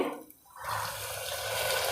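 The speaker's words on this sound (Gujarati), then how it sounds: "અડધો બાઉલ પાણી નાખશું" Water pours steadily into a pot, a continuous splashing rush after a brief quiet moment, close and fairly loud.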